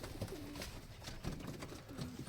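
Pigeons coo softly in a breeding loft, a few short low coos repeating at intervals amid light background rustle, moderately close.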